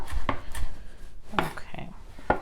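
Spinach is chopped on a cutting board with a knife, three or four separate crisp chops spaced irregularly across a couple of seconds, close and fairly clear with no talk over them.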